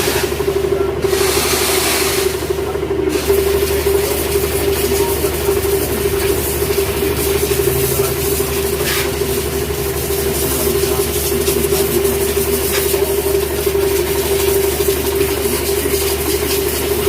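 A motorcycle engine idles steadily at close range with a constant low hum, while faint rustling and clatter from a wash come and go over it.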